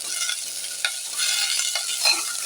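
Brinjal sautéing in a pan for a drumstick and raw mango sambar, with a steady close sizzle and a few spoon scrapes and clinks as it is stirred.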